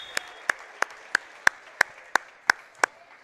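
Slow, steady single claps at a girls' high school basketball game (UCHS vs Hagerstown), about three per second, crisp and moderately close over a faint hum of the gym.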